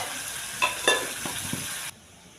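Spicy chicken liver pepper fry stirred in a pan, giving a soft steady sizzle with a few brief spoon scrapes and taps, close and fairly quiet, ending abruptly.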